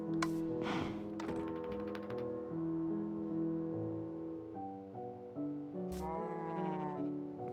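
Sheep bleat repeatedly in Minecraft, wavering calls over soft tonal background music and light tapping clicks.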